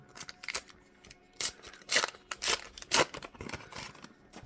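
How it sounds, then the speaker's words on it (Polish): Panini FIFA 365 sticker sachets being torn open by hand, with close crinkling foil, sharp rips and rustling bursts in quick irregular clusters, no talking. "Jeszcze mamy dwie saszetki, które otwieramy."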